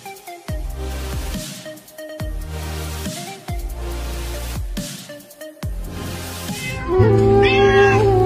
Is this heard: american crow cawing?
no